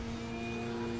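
A model airplane flies aerobatic manoeuvres, its engine a steady, fairly faint drone held at an even pitch throughout.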